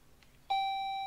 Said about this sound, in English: This is why I rang the doorbell here.